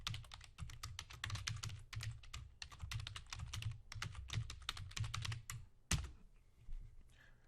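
Rapid, uneven clatter of computer keys being typed up close, bursts of keystrokes with short pauses while editing a spreadsheet file, ending in a sharper single key hit.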